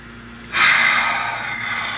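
One deep breath is drawn in, a close, airy rush that swells suddenly and then slowly fades into steady exhalation against a quiet background.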